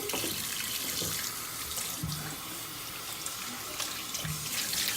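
Warm water runs steadily from a bathroom tap, a continuous close splashing stream filling the whole stretch, used for rinsing the face during an oily-skin care routine.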